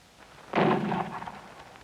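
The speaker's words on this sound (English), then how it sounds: "On another range, National Guardsmen light mortar crews go into action." A National Guard light mortar fires on a range, a single dull boom that rings out and fades over about a second.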